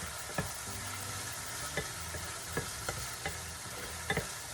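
Spices and chicken fry in a pan for chicken roti rolls, giving a steady close sizzle broken by several sharp scrapes and taps as the mix is stirred, with no talking.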